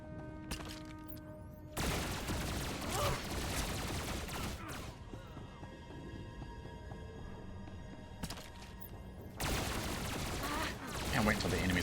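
Sweeping gunfire, a blaster barrage ability in Star Wars: The Old Republic, comes as two dense bursts of rapid, crackling shots. The bursts are loud and close, with quieter game ambience between them.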